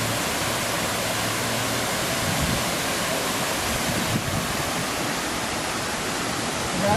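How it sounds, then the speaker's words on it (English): Water rushes steadily through a roadside chute beside a house foundation, a loud, continuous broadband flow like a small waterfall, close by and unbroken throughout. "All the water flow going across the road."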